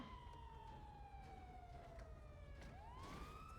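Police siren on a street, its wailing tone sliding slowly down and then sweeping back up as the vehicle passes, heard at a moderate distance over low traffic rumble.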